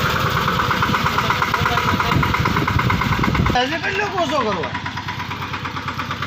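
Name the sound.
tractor engine idling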